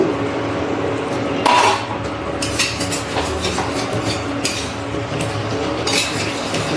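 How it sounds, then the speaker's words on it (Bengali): Potol korma being stirred in a pan on an induction cooktop after the lid comes off, with a steady clink and scrape of a utensil against metal over continuous background noise. "একটু নাড়াচাড়া করে নিলাম।"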